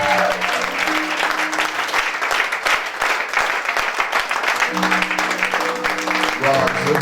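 Sustained applause from a church congregation fills the whole stretch, dense and steady, with a voice calling out under the clapping at the start and again near the end.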